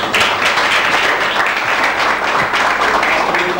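An audience applauds at a student achievement gathering, a steady wash of many hands clapping close and fairly loud throughout, with no talking over it.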